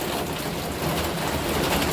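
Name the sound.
heavy rain falling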